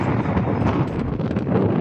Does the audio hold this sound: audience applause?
no